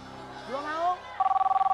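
A telephone rings with a rapid pulsing electronic trill during a live Ramadan call-in show, coming in loud right after a man's speech.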